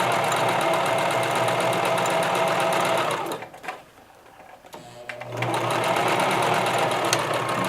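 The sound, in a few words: sewing machine stitching fabric applique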